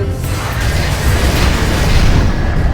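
An aspect missile launches from a fighter jet with a loud, sustained rushing roar that fills the whole short moment, with no voices over it.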